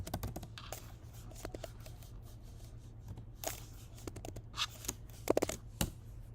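Typing on a computer keyboard, close rapid clicky keystrokes in uneven bursts with brief pauses and a few harder taps near the end.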